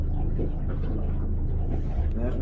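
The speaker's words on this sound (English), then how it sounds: "if there's a lot of wind, all you have to do is just start up that kicker motor" Small boat kicker motor running in gear on open water, a steady low rumble throughout with some wind noise on the microphone.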